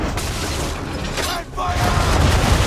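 Cannon fire from a sailing warship in Assassin's Creed III, a loud heavy blast with crashing debris that surges again after a brief dip, mixed with shouting voices.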